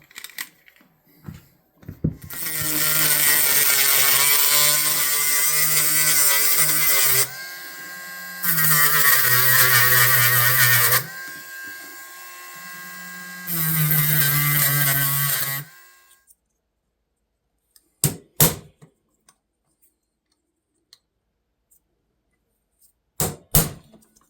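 A Dremel rotary tool whines at high speed in three sustained bursts with shifting pitch as it works on a rusty fishing knife, followed by a few sharp clicks and knocks of the parts being handled.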